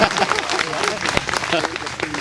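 Students and guests clap for a second-place winner at a school prize ceremony in a forest range, a steady patter of applause mixed with voices throughout.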